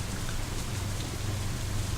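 Steady rain falls in a scene of the visual novel game Katawa Shoujo, a dense, even hiss of drops with a low rumbling bed, continuous and close with no voices.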